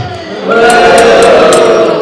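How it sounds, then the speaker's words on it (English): Cosplay contest crowd lets out a loud, drawn-out collective boo for the villains, a sustained mass of voices swelling after a brief quiet start and holding to the end. "Give me a boo for villains."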